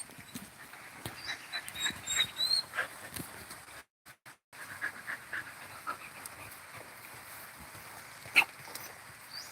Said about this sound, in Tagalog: My dog is making some noise.